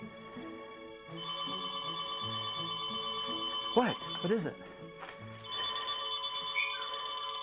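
An electronic telephone ringtone chirps in repeated bursts indoors at moderate level, with a dog barking briefly in the middle and a person speaking over it.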